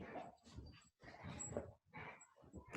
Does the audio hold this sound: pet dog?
yes